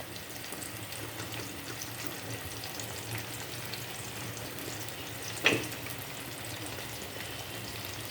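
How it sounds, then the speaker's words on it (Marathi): Onion and tomato fry in a pan for mung bean usal, with a steady, even sizzle that holds at one level throughout and one brief sharp clink near the end. "कांदा टोमॅटो फ्राय झालेला आहे।"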